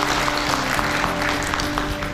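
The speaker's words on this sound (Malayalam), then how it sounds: "എല്ലാവരും ഒരു കൈയടിച്ച് ഒന്ന്" Guests at a wedding reception applaud the newly married couple arriving on stage, a dense, continuous patter of many hands clapping in a hall, with a low hum underneath.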